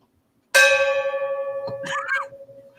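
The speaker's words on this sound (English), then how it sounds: "For whom the bell tolls." A single bell tolls once, struck loudly and then left to ring with a long, steady humming decay, while a faint voice-like murmur briefly rises near the end.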